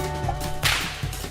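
A whip snaps with a sharp crack at its tip, a sonic boom, which lands as one loud burst near the middle of a short stretch with a few softer snaps and swishes around it, close up and with no voices.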